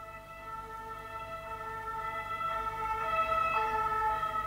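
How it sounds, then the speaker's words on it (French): A police siren wails steadily at a distance, its tone holding and slowly swelling louder, over faint low traffic rumble. "Ok, alors là, c'est la sirène des..."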